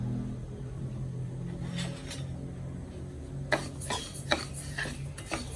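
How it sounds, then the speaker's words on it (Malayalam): Rice dry-roasts in a pan while a utensil scrapes and clinks against the metal in a few sharp, scattered strokes over a low steady background hum. "അരി ഒന്ന് വറക്കാൻ വെച്ചു നന്നായിട്ട് പൊട്ടുന്ന രീതിയിൽ വറുത്തെടുക്കണം"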